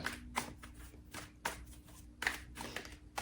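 A deck of tarot cards being shuffled by hand in a room, with several crisp riffling bursts repeating every second or so, close and moderately loud, separated by quieter handling noise.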